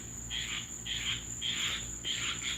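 A tree frog calls near a backyard pool at night, a series of about five rapid buzzing pulses at an even rhythm, moderately close, over a steady high insect-like whine and a low background hum.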